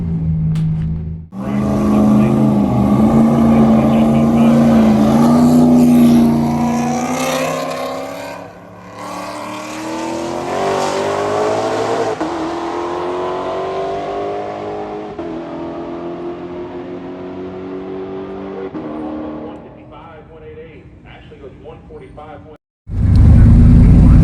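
A 5.3 LS-swapped Nissan 240SX roll races at Street Car Takeover Indy, its engine roaring loud and rising in pitch through gear shifts, then fading into the distance before a sudden loud burst near the end.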